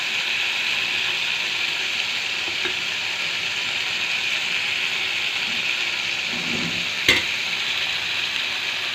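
Marinated pomfret fish frying in mustard oil in a pan hisses in a steady, even sizzle close up, with one sharp clack of a utensil near the end.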